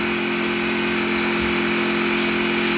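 A motorbike engine in a multiplayer video game drones in a loud, steady, buzzing hum that holds constant throughout, with no talk heard.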